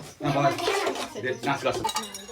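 Metal dishes and cutlery clink and clatter close by as children eat at a grandfather's birthday meal, a busy, continuous rattle with voices mixed in.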